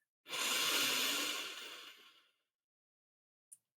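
A single long, deep inhale during a guided breathing exercise, a close, airy rush that swells quickly, holds and then fades out after about two seconds, followed by near silence and a tiny click.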